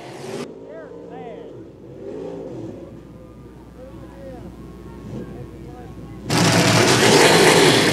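A demolition derby car with its throttle stuck, engine roaring steadily in the background while voices talk, then a sudden loud surge of revving at the end.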